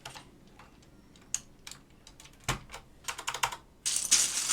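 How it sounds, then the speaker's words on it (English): Keycaps are pressed onto a vintage keyboard during a restoration, giving scattered sharp plastic clicks and snaps that grow denser and louder toward the end, close up with no talk. "So let's start putting keycaps on."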